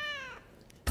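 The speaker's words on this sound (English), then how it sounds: "Hey, check out that cat." A cat lets out a single clear, drawn-out meow, followed by a short pause and then a sudden low thump.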